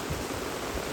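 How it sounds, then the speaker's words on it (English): Heavy rain pours steadily during a fishing outing, a dense even hiss of falling water close by with no pauses or voices. "It's raining,"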